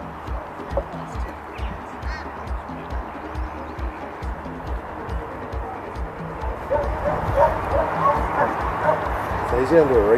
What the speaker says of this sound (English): we can just click beside their left ear or right ear and they'll start barking when we need them to